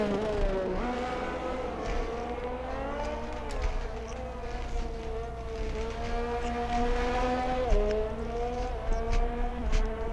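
Racing cars in a sim-racing esports league game at a virtual Great Britain circuit, including a McLaren and a Red Bull, drone with high revving engine tones that rise and fall steadily and loudly, with gear-shift dips and overlapping cars.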